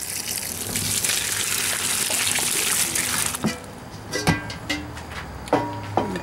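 Water gushes steadily into a container for a few seconds, then cuts off, followed by a few scattered knocks and clunks as the vessel is set down and handled nearby.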